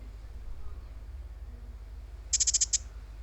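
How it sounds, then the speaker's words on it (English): A quick burst of high, bright electronic chirps, about six in a row, from a Nothing Ear (a) earbud locator, over a quiet low background hum. "this is the sound that you are gonna hear when you are searching for your earbuds"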